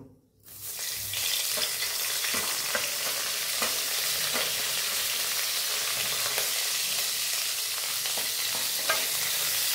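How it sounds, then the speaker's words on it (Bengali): Mixed vegetables with capsicum sizzle steadily in a hot pan, a dense continuous fry broken by occasional scraping stirs, close and fairly loud with no talking. "এই তরকারিগুলো পরপর একটু ভেজে নিলে পরে তারপরে আর অসুবিধা নেই।"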